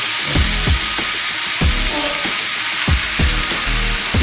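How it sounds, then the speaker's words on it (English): Chayote sizzles and crackles steadily as it is stir-fried in a frying pan, with repeated scraping stirs of a utensil against the pan at a regular rhythm, close and fairly loud throughout, with no talking. "Stir fry"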